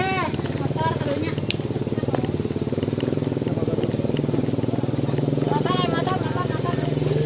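A motorcycle engine runs steadily close by in a rural village, its rhythmic idle thrum continuous throughout, with people talking over it.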